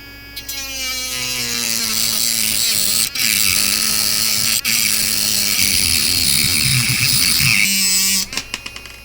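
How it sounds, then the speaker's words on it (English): A 3.7V handheld rotary tool running at top speed cuts through a metal deck screw, a loud, sustained high whine with grinding buzz for about seven seconds before winding down. "We're going to hold it down, turn this on. We're going to put it on the highest speed, which is 5."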